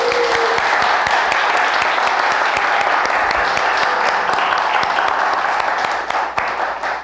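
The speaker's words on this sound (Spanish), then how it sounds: "Un aplauso a todos." Sustained audience applause closing the first day of the Iberocom 2013 conference, a steady, dense wash of many hands clapping at close range, holding level for several seconds before tapering slightly at the end.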